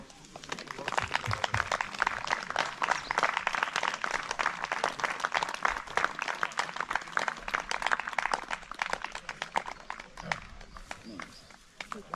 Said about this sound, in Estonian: Oh, aplaus!